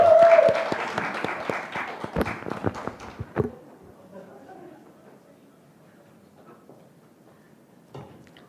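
Audience applause before a high school student's speech at a youth speech contest, loud clapping for about three seconds that stops abruptly, followed by quiet room tone with faint shuffling and a brief bump near the end.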